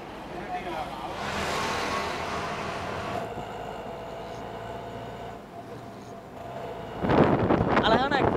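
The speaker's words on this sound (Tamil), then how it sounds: "கோயம்பேட்டிலேருந்து ஆலந்தூருக்கு ஆட்டோவில் தொடங்கலாம்." Auto rickshaw riding from Koyambedu toward Alandur in Chennai, past Koyambedu market, with a steady engine and road rumble, wind rushing over the microphone and a louder gust near the end; a voice talks over it.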